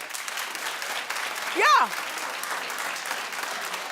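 A studio audience at a daytime talk show claps in sustained, dense applause, with a voice calling out briefly over it.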